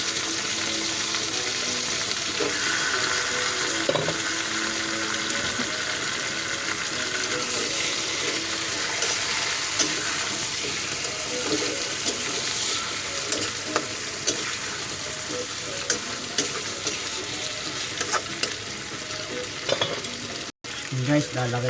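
Tilapia fries in a pan with garlic, giving a loud, continuous sizzle and crackle that runs the whole time alone, with occasional stirring clatter near the end.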